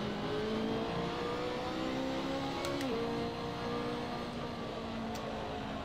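A BMW engine in the Assetto Corsa racing game, running at Road America, holds a steady mid-pitched drone with a brief shift in pitch midway, continuous and moderately loud.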